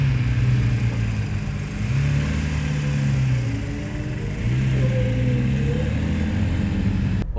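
A Porsche 911 (991.2) rear-engine sports car accelerates on an exotic car racing track, its engine droning loud and steady with rising pitch sweeps as it climbs through gears.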